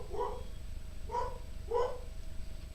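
A puppy in the background gives three short, faint barks or yips, evenly spaced about half a second to a second apart, in a quiet room with no talking.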